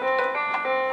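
A virtual instrument triggered from an M-Audio-style AKM 320BT MIDI controller sounds a sustained, bright synth chord with steady harmonic tones and slight swells. It plays alone for about a second with no voices.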